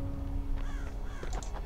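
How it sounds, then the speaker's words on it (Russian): A crow caws in the video game Vigil: The Longest Night, a few harsh calls in quick succession over a steady low ambient drone, with no talking. "Фу, блять, ворона напугали, идиоты."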